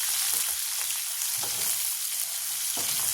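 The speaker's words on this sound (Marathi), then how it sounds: "नंतर याच्यामध्ये कांदा पण टाकायचा एक कांदा कापून घेतला तो पण टाकायचा" Chopped onion frying in a pan for a dry mushroom dish, giving a dense, continuous hiss of oil with faint stirring thuds underneath.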